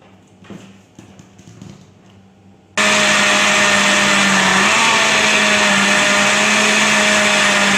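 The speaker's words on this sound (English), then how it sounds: "we'll put our three items in blender and we'll blend it very smoothly" A blender starts up and runs loudly and steadily, whirring as it blends mango pieces with sugar for an easy homemade mango ice cream, after a few seconds of quieter kitchen handling noises.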